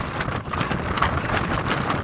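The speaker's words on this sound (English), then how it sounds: "Oh, it's really windy." Steady, gusty wind buffeting the microphone at Lake Tekapo, New Zealand, a continuous broadband roar with no talking.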